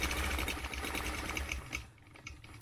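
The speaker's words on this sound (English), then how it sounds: "I'm stitching a 1/2 inch away." A sewing machine runs steadily, stitching a straight line along a quilting ruler half an inch from the edge, its rapid mechanical whir close and continuous before easing off near the end.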